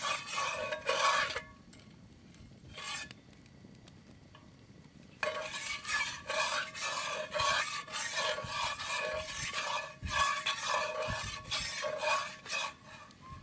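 A spoon stirs food in a heated cast iron pan with rhythmic rasping scrapes, close and clear, pausing briefly for a few seconds before picking up again in quick repeated strokes.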